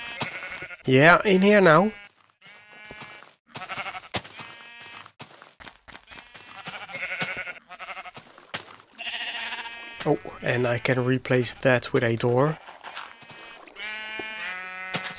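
Sheep in the Minecraft video game bleat several times in loud, wavering calls, with two prominent bursts near the start and middle, while someone talks throughout between them.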